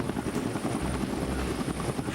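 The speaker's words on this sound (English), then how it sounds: "This includes transport helicopters and Harrier vertical takeoff jets." A transport helicopter aboard the amphibious assault ship Saipan, its rotor beating in a steady, dense thrum that is loud and close, with a broad roar of engine noise filling the whole clip without any talk.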